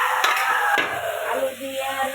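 Potatoes frying with onions in a home kitchen pan give a close, steady sizzle, broken by a few scraping stirs near the start.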